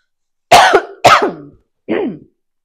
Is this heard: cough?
yes